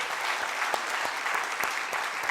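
Church congregation claps during a Sunday sermon, a soft, steady wash of many hands heard from a distance with a few sharper individual claps standing out.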